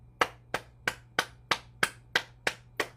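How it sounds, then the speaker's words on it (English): A single person claps their hands nine times in a steady, even rhythm during a qigong exercise session. The claps are sharp, close and roughly evenly spaced, with a faint low hum underneath. "And then we'll clap our hands to stimulate our heart."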